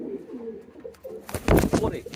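Low, rounded coos of a male racing pigeon sound softly at first, followed by a louder burst of rustling and close handling noise.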